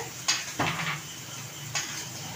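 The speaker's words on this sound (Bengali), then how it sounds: "টমেটোটা দিয়ে এবার একটু নাড়াচাড়া করে নিই" A spoon clanks and scrapes against a cooking pan while tomato is stirred for a chicken momo filling, with a few distinct knocks spaced across a quiet background and a faint sizzle.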